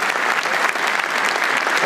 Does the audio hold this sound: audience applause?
yes